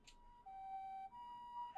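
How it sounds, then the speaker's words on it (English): Distant ambulance siren in the Slow Damage video game, a steady wailing tone across a city bridge, faint and far off over low ambient background noise with no talking. "I can hear an ambulance siren in the distance, on the other side of the bridge."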